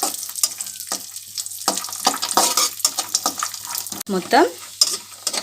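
Dry fruits for ragi laddu frying slowly on a low flame, with irregular stirring scrapes and clinks over a light sizzle, plus a brief spoken word partway through.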